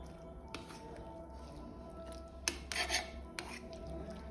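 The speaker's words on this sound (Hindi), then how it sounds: "धीरे धीरे स्टर करते रहो।" Sweet corn kernels are stirred in a pan on a high flame with a spoon, giving soft rasping scrapes and a few sharper clicks of metal against the pan. The kitchen is otherwise quiet.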